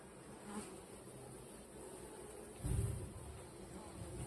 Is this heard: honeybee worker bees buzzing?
yes